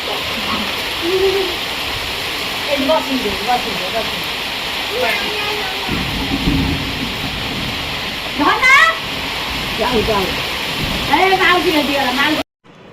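Heavy rain pours down in a dense, steady hiss that runs the whole time, with people talking and other faint calls mixed into the downpour.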